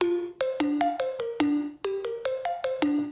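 A bright Yamaha SEQTRAK synthesizer plays a quick chromatic run of short stepped notes, each with a sharp attack and brief sustain, rising and falling in a steady rhythm.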